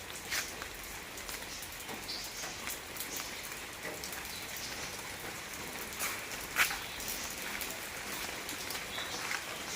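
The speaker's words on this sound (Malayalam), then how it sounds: "മഴയോ അയ്യോ." Rain falls steadily outdoors, a soft, continuous patter of drops with scattered louder splashes, moderately close and without speech.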